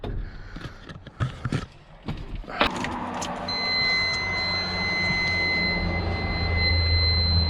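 An old homestead vehicle, not driven in about two weeks, starting up: keys and clicks, a cranking catch, then a steady loud idle with a faint warning chime, close by and without talk.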